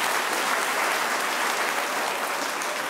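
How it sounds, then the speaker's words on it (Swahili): A congregation applauds at a Catholic Mass at St. Luke's Church, Oloitoktok: dense, sustained clapping from many hands filling the room, loud and steady throughout. "Tupige makofi jamani."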